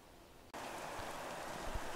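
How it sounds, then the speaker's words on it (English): Heavy rain falls on the grid at Silverstone in the racing game F1 2017, a steady, even hiss that starts abruptly after a quieter half-second and stays constant and fairly faint. "it is raining, and it is not just raining a little bit, it is absolutely raining buckets here on the grid at Silverstone"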